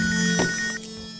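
A telephone ringtone plays as a short, steady electronic tone, clear and close, during a brief moment in a Bengali-dubbed South Indian film.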